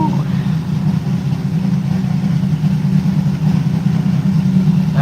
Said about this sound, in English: Yeah, revving it up a little bit.